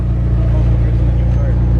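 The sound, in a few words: McLaren and Audi R8 sports cars arriving at car meet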